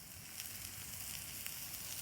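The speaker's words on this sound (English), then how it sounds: "hear the sizzle" Burgers sizzle on a Blackstone griddle, a steady low crackling hiss with faint pops, close and fairly quiet, continuous with no voices.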